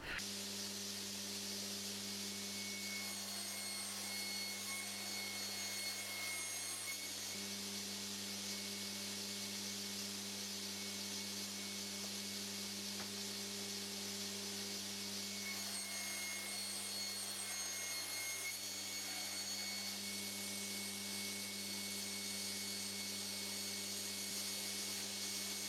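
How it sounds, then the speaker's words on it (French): A panel saw trims wooden panels in a workshop, giving a steady, continuous mechanical hum and hiss throughout, with a few faint rises as the blade works through the wood. "je vais aller faire une coupe de propreté sur ces panneaux avec la scie à format"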